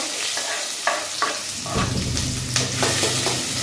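Mustard seeds spluttering in hot oil as the tempering for an ivy gourd stir-fry, with a steady loud crackling sizzle and sharp pops, and a few stirring scrapes.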